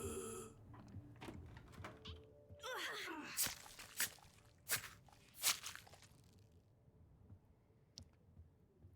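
Zombie footsteps in Into The Dead: Our Darkest Days come as scattered, irregular crunching steps and thuds at moderate distance, with faint groans and gasps, in a quiet, sparse setting.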